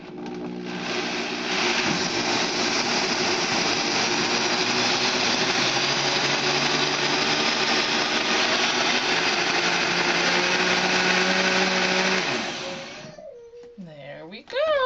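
A blender runs loud and steady for about twelve seconds, churning a thick vegan ranch dressing, then cuts off, leaving quiet and a faint voice at the end.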